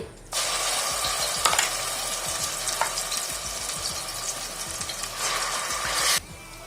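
Ground masala spice paste sizzles in hot oil for a Rayalaseema chicken curry, a loud, steady, close frying crackle that runs without a break for several seconds, with light scraping from stirring now and then.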